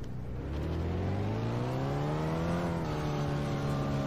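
In the CarX Rally video game, a rally car engine revs up steadily as the throttle is pressed, its droning pitch climbing and then holding. The sound is loud and close, with no talking over it.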